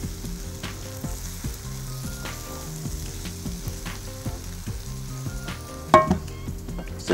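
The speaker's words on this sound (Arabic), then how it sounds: "انا بس ببتدي اقلب كده لحد ما احس ان كل الحتت بتاعت المشروم جا عليها الدهن" Mushrooms frying in oil and butter give a soft, steady sizzle as they are stirred, with a utensil clink near the end, under tonal background music.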